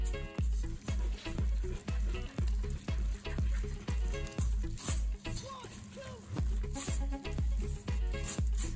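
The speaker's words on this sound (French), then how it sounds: "maintenant, je mélange à la main." Focaccia barese dough is mixed by hand in a bowl, giving wet, sticky squelching and slapping in a steady rhythmic series of close strokes throughout.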